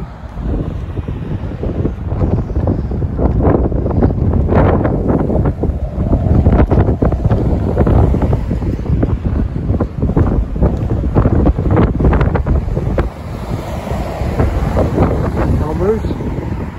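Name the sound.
wind blowing while walking across a bridge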